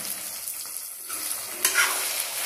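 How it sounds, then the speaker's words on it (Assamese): Meat and whole boiled potatoes fry in a pan with a continuous close sizzle, broken by occasional stirring scrapes and small crackling bursts. "এতিয়া অলপ টাইম আৰু ভাজিম"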